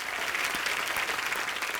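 Brief, even burst of studio audience applause on The Kapil Sharma Show as a singer is welcomed: steady, dense clapping throughout.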